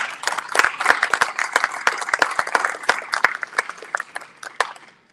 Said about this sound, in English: Round of applause for Fiel, por favor.